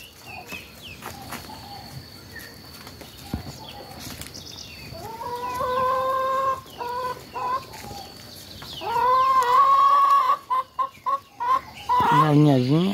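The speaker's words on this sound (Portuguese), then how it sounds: "E o frangozinho tá começando a cantar agora." Free-range chickens on a farm cluck and murmur softly for a while, then a young rooster breaks into several loud, strained, uneven crowing attempts close by, and brief calls rise toward the end.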